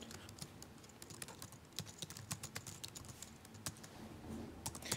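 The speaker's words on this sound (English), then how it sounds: "we're ready to start typing in some code" Typing on a computer keyboard while entering HTML code, a quick irregular run of sharp, close key clicks that carries on steadily with no voices.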